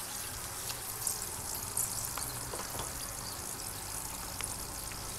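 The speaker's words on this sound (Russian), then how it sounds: "Вот так вот выжаривается." Pieces of pork skin fry in rendered fat in a pan, giving a soft, steady crackling sizzle with scattered small pops, faint and continuous with no talking.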